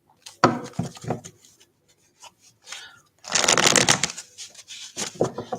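Tarot cards are shuffled close up in a few quick riffling bursts, with a longer, denser shuffle in the middle and short card snaps between.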